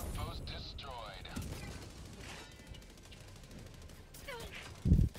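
Robots firing on the player in the video game Chilibo: a steady clatter of synthetic gunfire and whooshing laser-like sweeps, ending in a loud, low impact burst near the close.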